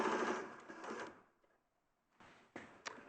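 A domestic sewing machine stitches fabric in two bursts, a dense mechanical whir for about a second, a near-silent pause, then shorter runs of stitching close by, with no talk.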